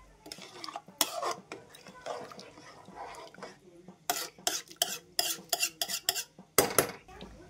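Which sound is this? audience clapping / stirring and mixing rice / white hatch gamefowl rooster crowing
stirring and mixing rice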